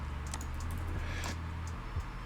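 A single key press on a computer keyboard during 3D modeling software work, a faint soft click heard against a low steady electrical hum, with no speech.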